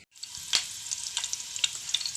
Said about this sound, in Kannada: ನೆಕ್ಸ್ಟ್ ಒಗ್ಗರಣೆ ಹಾಕೊಂಡು ಬನ್ನಿ